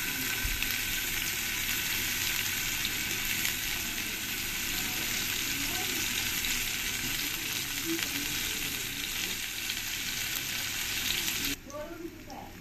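Paneer cubes fry in hot oil with a loud, steady, close sizzle and crackle that carries on unbroken, then drops abruptly quieter near the end.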